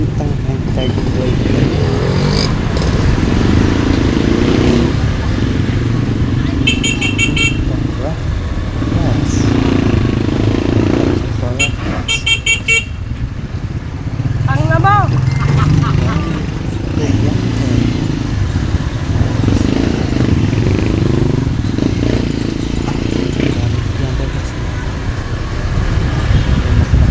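A motorcycle-with-sidecar tricycle engine drones along a road, a steady close rumble with passing traffic noise and occasional short horn beeps, while people talk intermittently over it.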